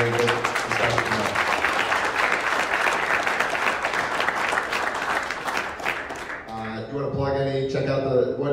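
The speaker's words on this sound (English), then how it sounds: "So a round of applause for our speakers coming on, having a good discussion tonight." Audience applause follows a debate on immigration reform at a liberty forum, dense steady clapping for about six seconds before it thins out and a voice starts talking.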